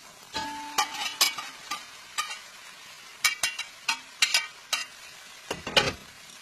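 Defatted meat frying in a pan: a faint sizzle beneath a series of sharp, irregular utensil scrapes and clicks against the pan as it is stirred.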